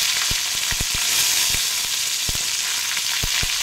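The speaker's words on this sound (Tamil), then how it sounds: "காஞ்ச மிளகாய் போட்டு கருவேப்பிலை போடணும்." Dried red chillies and curry leaves fry in hot oil, giving a loud, continuous close-up sizzle punctuated by several sharp pops and clicks of stirring.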